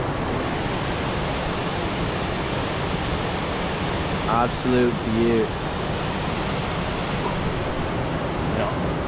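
A river waterfall rushing, a loud steady broadband roar of falling water that fills the whole scene without letting up, with a man briefly exclaiming over it.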